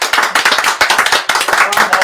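A few people clapping in a radio studio, close and loud, with quick, uneven hand claps in short bursts separated by brief gaps.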